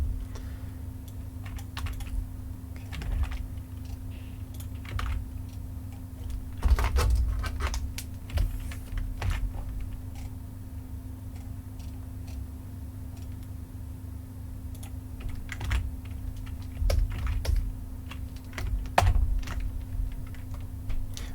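Computer keyboard keys are pressed in short, irregular bursts of crisp clicks for shortcuts, close by over a low steady electrical hum, with no one talking.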